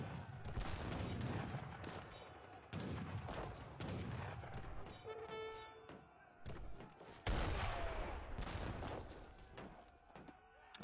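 Heavy cannons and mortars fire in a strategy video game battle, a series of deep booming blasts and thuds rolling in irregular bursts, some close and loud, others fading into rumbling echoes.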